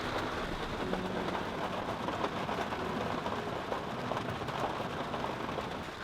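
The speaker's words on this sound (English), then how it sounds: "it's raining" Heavy rain falling steadily, a dense, even hiss with no breaks, fairly faint and with no talking.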